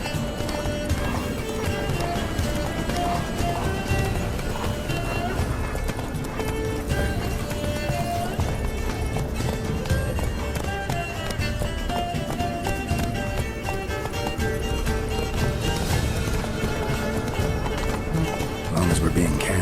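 A horse gallops in the video game The Witcher 3, its rapid, steady hoofbeats pounding continuously beneath game music, with a whinny heard and people talking over it.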